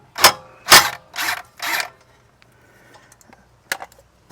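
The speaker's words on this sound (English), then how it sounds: "take these 13mm bolts off." Four quick bursts of a ratchet spinning off 13mm bolts during CV axle removal on a 2014 AWD 3.6-litre Dodge Journey, close and loud, followed by quieter clinks and a final short click.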